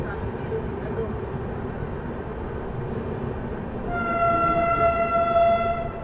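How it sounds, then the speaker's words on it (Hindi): The Prayagraj–New Delhi Humsafar Express running fast on Indian rails, a steady rumble and rush throughout, joined near the end by a loud sustained multi-tone train horn. "क्या भागी है गाड़ी यार, क्या भाग रही है।"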